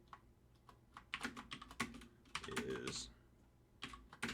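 Java code being typed on a computer keyboard during a programming class: rapid, irregular clatter of keystrokes in bursts, close and clear, with a brief spoken word in the middle.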